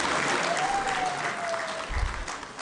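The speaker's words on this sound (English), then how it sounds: "Another round of applause for Kudu Tamaka Traditional Dance Troupe." An audience at the opening of the 19th ARIPO session claps for the Kudu Tamaka Traditional Dance Troupe, a dense, steady wash of applause that eases slightly toward the end.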